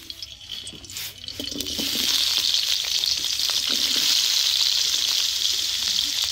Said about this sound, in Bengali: তেল গরম হয়েছে, এখন দিব গোটা আলু